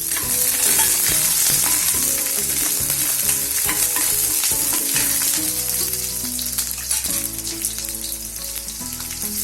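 Garlic and green chilli frying in hot oil for a monsoon vegetable dish, a steady dense sizzle close by with scraping stir strokes, continuous and loud without speech.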